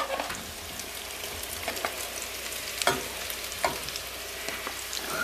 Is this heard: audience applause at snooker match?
no